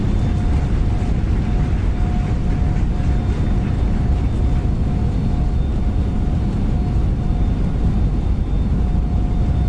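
An IndiGo Airbus A321neo in Microsoft Flight Simulator 2020 applies reverse thrust after landing, giving a loud, steady engine roar with faint whining tones that holds unbroken for about ten seconds.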